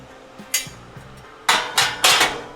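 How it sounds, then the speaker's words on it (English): A metal flame guard set inside a Pit Boss Titan grill gives several close, sharp metallic clanks, one early and then three louder ones in quick succession. "Put the flame guard in there."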